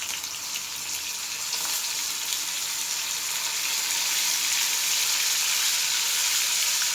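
Bay leaf and small chopped garlic cloves sizzle steadily in hot oil, a bright continuous frying hiss that swells slightly louder as it goes, with no voices.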